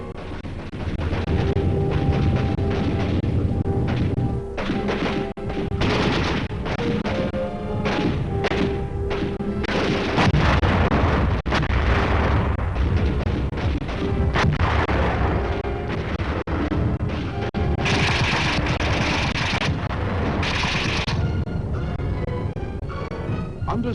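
Atomic weapon explosion in a military setting, a sustained, loud rumbling blast with heavy thuds and roaring debris that stays dense and full throughout, with no speech over it.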